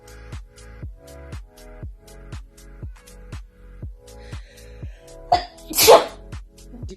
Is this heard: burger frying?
no